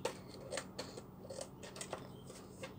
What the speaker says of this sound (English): So I just need to cut it down to size